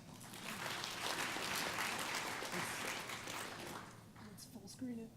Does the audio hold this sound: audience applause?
yes